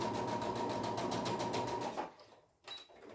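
A sewing machine runs steadily for about two seconds while top stitching along the edge of a zipper purse, a close rapid mechanical chatter that stops, followed by a brief clunk of handling.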